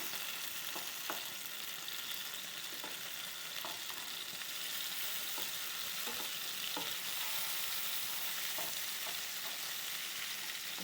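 Sardines (mathi) sizzling in a frying pan after being flipped, a steady hissing fry with occasional soft taps of a spatula, moderately quiet and without speech.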